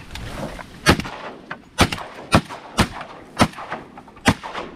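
Shotguns fire over decoys during a duck hunt, six or seven loud sharp blasts spaced about half a second to a second apart, each followed by a short outdoor echo, no voices.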